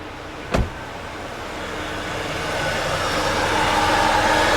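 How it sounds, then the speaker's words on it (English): A Mercedes E350 engine idles steadily under the hood, a broad even running hum that swells slightly, with a brief thump near the start. "So as you can hear, the engine is running."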